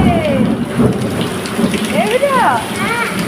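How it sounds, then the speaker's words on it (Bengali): Hail and heavy rain pound down during a storm in Kharagpur, a dense roaring patter close by, with voices calling out excitedly over it. "শিলাবৃষ্টি হচ্ছে, শিলাবৃষ্টি হচ্ছে।"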